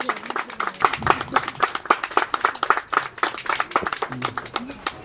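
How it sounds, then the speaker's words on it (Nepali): Guests at a Nepali wedding clap their hands in a dense, lively burst of close applause that holds steady throughout the clip. "आउनु सबैले ठुलो ताली बजाएर"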